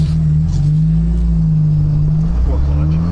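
A Dodge car runs on boost with a loud, steady engine drone that holds a deep sustained tone throughout.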